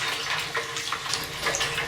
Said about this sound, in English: I'm just going to put in a little bit of water so I can actually really swirl up this jaggery